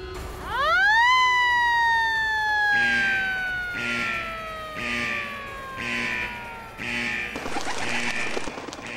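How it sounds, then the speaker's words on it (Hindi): A loud wailing forest alert siren rises and sweeps steadily, then shifts into a repeating pulsed wail with a rhythmic beat; no voices. "लगता है जंगल का सायरन बज गया"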